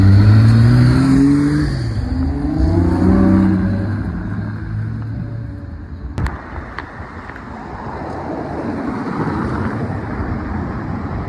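A Ferrari 812 GTS V12 drives away on a Paris street, its engine loud and revving at first, then fading into the distance among wind and traffic noise.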